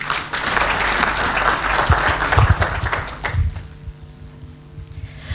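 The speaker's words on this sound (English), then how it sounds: "Let's give her another warm hand of applause" An audience at a peace and cohesion event applauds a Swedish embassy speaker, a loud burst of many hands clapping that thins out and fades after about three seconds, leaving a few scattered claps and room noise.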